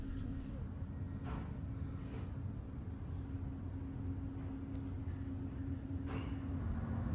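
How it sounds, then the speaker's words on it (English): A steady low rumble of a passenger train departing on the Bergen to Oslo line in Norway, with a constant hum and faint squeaks, heard from inside a carriage. "The train departed right on schedule"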